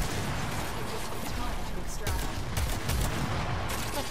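Warframe gun fire: quick fusillades of shots and sharp bursts over busy combat noise, fairly quiet in the mix, with a voice talking over the action.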